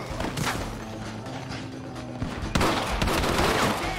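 Gunfire in the Western video game Red Dead Redemption: rapid overlapping shots and clattering bursts in a dense volley, with a sharper, louder flurry in the second half, no speech.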